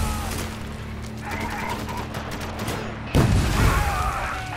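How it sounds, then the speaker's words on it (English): Grenade explosions in the video game Spec Ops: The Line, a dense rumbling barrage with a sharp, louder blast near the end, continuous heavy booms and crackle throughout. "That was two grenades."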